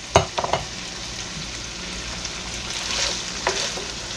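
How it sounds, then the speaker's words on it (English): Petite diced tomatoes with green chilies hit a skillet of browned beef, a few sharp splashes and scrapes at the start giving way to a steady, close sizzle with occasional stirring clatter. "next, we're going to dump in those choice tomatoes, petite diced, with green chilies"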